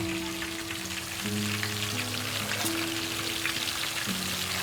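Chicken keema balls fry in hot oil in a pan, a steady close crackling sizzle with an occasional stir, over a faint background hum and no talking.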